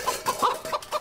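A chicken clucks in a game-show jingle: five short, bright clucks in a bouncy rhythm over a faint musical bed, fairly close and moderately loud.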